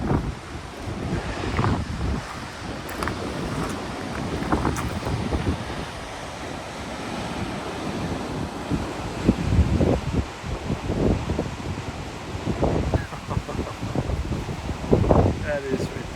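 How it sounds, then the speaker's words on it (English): A strong gale blows at a waterfall in Royal National Park, New South Wales, roaring and buffeting the microphone in heavy, uneven gusts for about sixteen seconds, with a rushing water-like wash underneath. "It's blowing an absolute gale."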